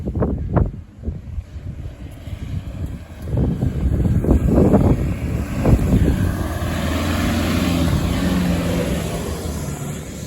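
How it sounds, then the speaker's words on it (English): Strong wind blows across open desert, roaring steadily into the microphone with gusty buffeting and low rumbling swells, heard alone without talk. "It's getting windier and windier, I reckon."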